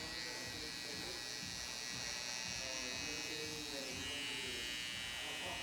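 Hair clippers run continuously while cutting a guideline into hair, giving a close, steady electric buzz with slight shifts as the blade moves, and quiet talk underneath.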